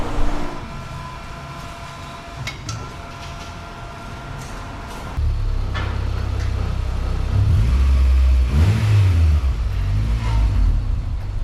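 A turbocharged Honda Civic engine idles, then revs up loudly and climbs through a couple of surging pulls, droning close by with no talking.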